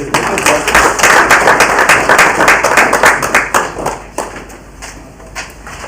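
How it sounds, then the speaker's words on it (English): Audience applause at a debt conference session, a dense burst of many hands clapping that starts strong and gradually thins out over several seconds. "Can we give them a round of applause?"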